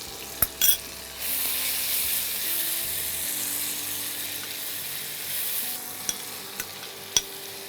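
Spice mixture sautéing in a pan for bottle gourd malai curry: a sudden steady sizzle starts after a couple of clanks and continues evenly, with occasional sharp utensil taps near the end.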